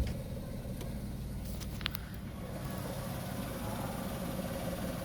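A car's engine idles, heard from beside the window while the car stands parked in a quiet area, a low steady hum with a brief faint click midway and no talking.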